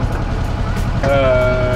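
A sailboat's troubled engine drones low and steady, and about a second in a sharp, wavering tonal whine rises over the rumble and holds to the end.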